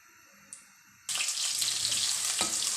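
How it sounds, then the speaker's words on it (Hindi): Garlic and onion drop into hot oil in a home kitchen pan, setting off a sudden loud sizzle after a short quiet moment, then a bright, steady frying hiss that holds to the end. "ऑयल गर्म हो गया है, मैं अभी लहसुन और प्याज डाल देंगे"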